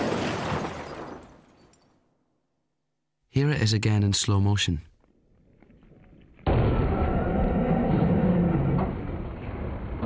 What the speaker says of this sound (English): This is the sound of a car crashing into a parked car at 30 miles an hour.